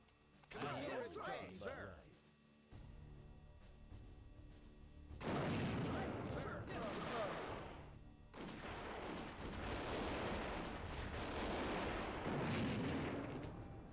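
Cannons fire in the naval pirate video game No Peace Beyond the Line, with several heavy booming blasts rolling out in bursts amid ship action, loud and close, while someone talks over parts of it.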